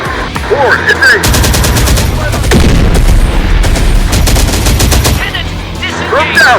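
Sustained automatic gunfire and rapid bursts from Terminator Dark Fate Defiance battle, loud and dense throughout with heavy low booms, fast repeating shots and occasional whistling tones layered over the combat.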